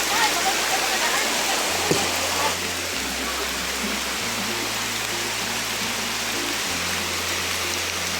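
An overflowing river rushes loudly and steadily nearby, a broad constant roar of churning water, with a low engine-like hum and muffled voices underneath.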